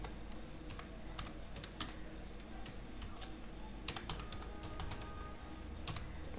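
Typing on a computer keyboard while writing HTML and CSS code, a steady run of soft, close clicks and key taps that carries on without pause for several seconds, with no talking.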